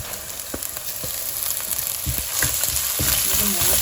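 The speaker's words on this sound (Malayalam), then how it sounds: "ഇഞ്ചി നമുക്ക് നന്നായിട്ടെല്ലാം മൂക്കട്ടെ" Ginger frying in a pan with mustard seeds, fenugreek and garlic for a Kerala fish curry, a soft continuous sizzle with occasional spatula scrapes and pops, no talking.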